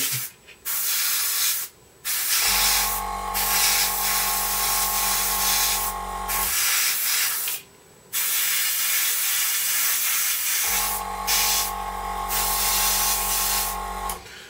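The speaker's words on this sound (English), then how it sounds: "I've got to spray the undercarriage doors as well" Airbrush or spray can misting paint onto primed undercarriage doors of a Su-27UB scale model, in two long steady hissing bursts with short pauses between, close and fairly loud, a low hum running beneath each burst.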